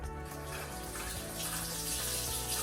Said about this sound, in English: I guess I better put the water on now,